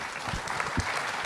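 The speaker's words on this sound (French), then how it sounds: "on peut l'applaudir." Audience at a roundtable discussion applauds a former RAID negotiator, a brief burst of dense clapping from a moderate crowd, fairly close and even in loudness, with a faint voice underneath.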